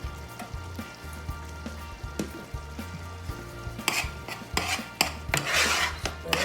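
Country fried corn being stirred in a pan with added flour: close, steady scraping and rasping strokes over a soft sizzle, the stirring growing louder and busier toward the end, with no talking.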